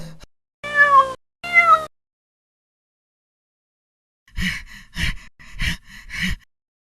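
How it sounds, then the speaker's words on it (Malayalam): Animated cartoon cat meows from inside a sack: two drawn-out meows, a pause of silence, then four shorter, breathier cries in quick succession. "ആ ചാക്കിൽ പൂച്ചയായിരുന്നു."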